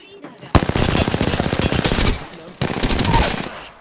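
Automatic gunfire in the video game Apex Legends rattles out in two loud, close bursts of rapid shots separated by a brief pause, with some talk mixed in.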